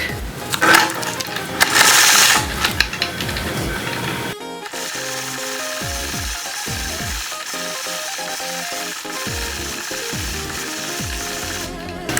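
A sewing machine quilts a hand-guided tree design, running in bursts of fast mechanical stitching separated by short pauses, close and fairly steady throughout, with no talk.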